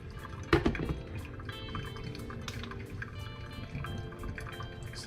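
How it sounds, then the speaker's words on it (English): Water is poured from a kettle over ground coffee in a pour-over brewer, up to about 400 grams, making a soft, steady trickle with a brief splashy onset, quiet and close with no talking. "I'm just going up to about 400 grams now of water."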